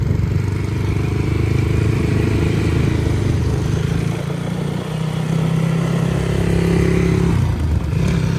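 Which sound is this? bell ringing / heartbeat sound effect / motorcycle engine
motorcycle engine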